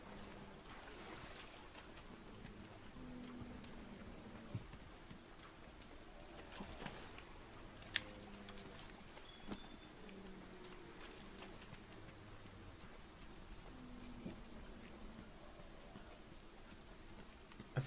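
Steady rainfall in Monster Hunter World, a continuous soft hiss of rain on surfaces with occasional bird calls, faint and unbroken throughout.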